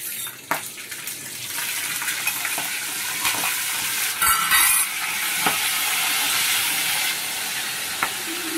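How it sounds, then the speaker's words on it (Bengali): Chillies dropped into hot mustard oil, a loud continuous hiss and crackle of frying that swells briefly, with occasional light clinks of a utensil and no talking. "আবার তেলটা গরম হয়ে গেছে। এবার লঙ্কাগুলো আমি দিয়ে দিলাম।"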